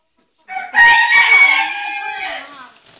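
At a horse stable, a single loud rooster crow rises sharply and trails off over about two seconds, with a brief cluck before it, close by and otherwise quiet.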